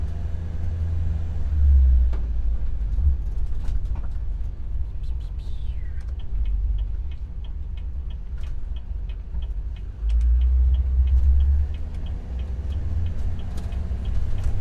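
A Chevy Express converted skoolie bus fitted with SumoSprings rumbles along on a test drive, steady low engine and road drone from inside the cabin with occasional light ticks and rattles and swells as it rounds corners.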